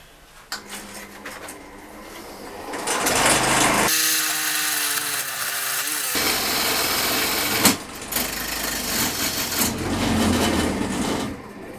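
A wood lathe spins a hardwood vase blank while a carbide cutter shapes a tenon on its end, a rough whirring and scraping with bursts of louder cutting and a brief steady tonal whine partway through.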